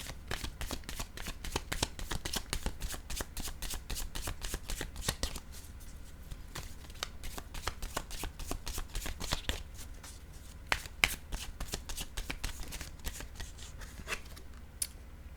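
A tarot deck is shuffled in quick, rapid riffles that run almost continuously, close and crisp, slowing into sparser flicks and taps toward the end, with no talking.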